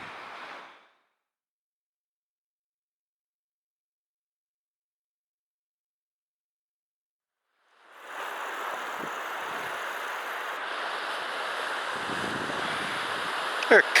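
Sea surf along the Cardiganshire coast washes in as a broad, windy rush after a long silence, growing steadily and swelling louder near the end, with wind buffeting the microphone.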